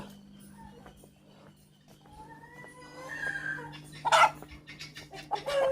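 Chickens cluck and call at close range, starting with faint scattered clucks and building into louder squawking calls toward the end over a steady low hum.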